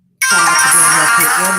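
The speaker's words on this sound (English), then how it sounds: "I'm sorry for the phone ring. I thought I had turned it off." A phone ringtone sounds, loud and steady, starting abruptly and continuing while a person speaks over it.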